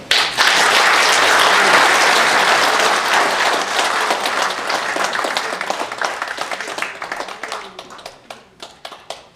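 Applause at an association's annual general meeting, a loud dense burst of clapping that gradually thins into separate individual claps as it fades.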